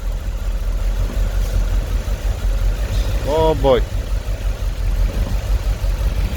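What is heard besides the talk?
Mercedes S63 engine idling roughly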